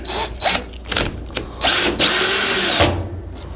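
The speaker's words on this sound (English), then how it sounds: "So it's just a matter of screwing everything back together." Power drill driving screws back into a clothes dryer during repair, several short whirring bursts with pauses between and one longer run near the end, close and loud with no talking.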